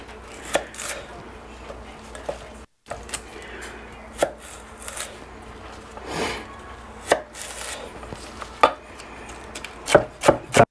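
A knife chops through large celery stalks on a cutting board in irregular, crisp, close thuds and cracks, some hits sharper and louder than others, with short pauses between bursts and no talking.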